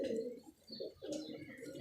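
A red Dabaz female pigeon coos softly and continuously up close, a low murmuring call that swells and fades, with a faint voice at moments.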